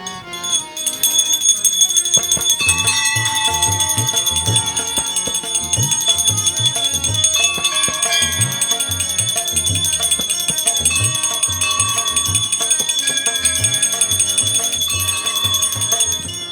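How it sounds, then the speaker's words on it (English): Bells and a ghanti hand bell ring without pause through a Hindu arati at a Sunday satsang, a bright, steady clangour mixed with loud rhythmic devotional music for the whole stretch. "We have 2 people to ring the bells, in addition to the ghanti."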